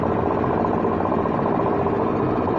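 An air compressor driven by a 1.5 horsepower motor runs fast and steady, a continuous, even mechanical drone heard close and alone for the whole stretch.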